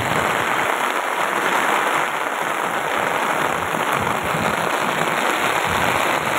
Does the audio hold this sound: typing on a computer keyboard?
no